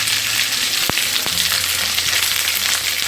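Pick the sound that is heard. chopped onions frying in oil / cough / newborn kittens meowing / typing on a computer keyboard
chopped onions frying in oil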